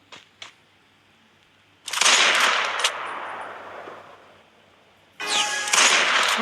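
Gunfire in the Free Fire mobile game with an MP5-type weapon: two faint clicks, then a loud burst of shots lasting about a second and fading, and another loud burst near the end.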